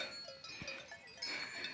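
Sheep and lambs on a village farm, a few faint bleats and soft animal sounds heard at a distance in quiet surroundings.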